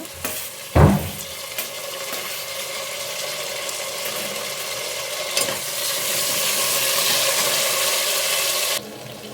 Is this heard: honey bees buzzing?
no